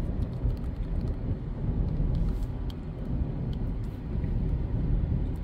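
Steady low road rumble fills a closed pickup truck cabin, a continuous dull roar of tires and engine with no talking.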